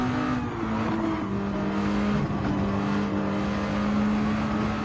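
A Honda NSX Group 4 race car engine in Gran Turismo 7 drones loudly and steadily at high revs, dipping briefly as it shifts and then climbing again, with no talk over it.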